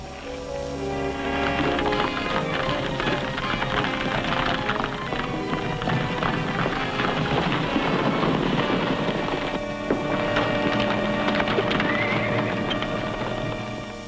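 Horses neighing and hooves clattering over a busy, dense background, with several whinnies rising above the galloping noise.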